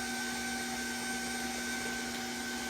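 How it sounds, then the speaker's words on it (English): An electric mixer running on coconut cake batter gives a steady, loud motor whine with a constant droning hum, unchanging from start to finish and close by, with no talking. "And I'm going to turn this mixer up a bit."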